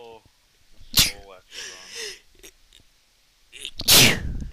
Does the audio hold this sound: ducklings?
no